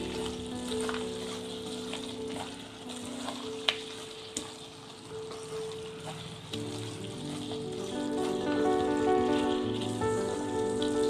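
Carrot halwa with fried dry fruits being stirred in a pan, a continuous crackling sizzle with scraping stir sounds and occasional sharp clicks, close and steady, growing slightly louder toward the end.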